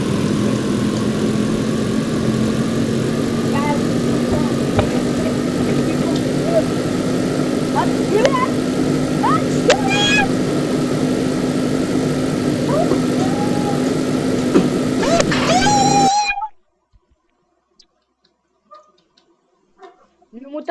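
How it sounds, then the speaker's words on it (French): An engine idles in a Roblox desert vehicle, a steady low drone with tonal whines and chirps over it, loud and continuous before cutting out abruptly near the end, leaving near silence. "Le moteur s'arrête tout seul sans raison des fois."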